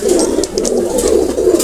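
Teddy breed pigeons coo loudly and close, a continuous, throaty rolling coo with soft overlapping calls.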